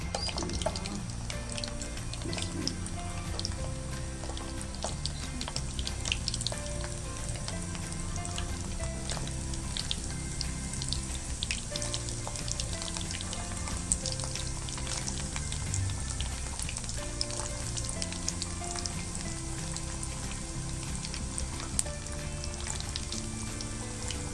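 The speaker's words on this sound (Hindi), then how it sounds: "अब बाकी के इसमें डालते हैं, फ्राई करते हैं।" Potatoes frying in hot oil on a home stove make a steady, dense sizzle and crackle that runs unbroken and fairly quiet throughout.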